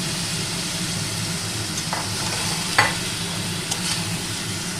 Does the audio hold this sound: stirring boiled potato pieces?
yes